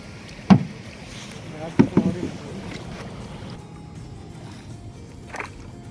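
A small rowboat rocks on the water near the shore, with a few sharp wooden knocks and bumps over a steady low rumble of water and light wind.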